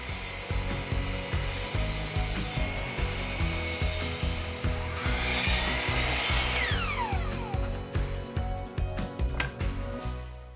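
Excess wood trimmed off the sides with a saw while building a DeWalt chisel station: a loud, close rhythmic cutting drone with a steady repeating stroke pattern that continues throughout, with no voices.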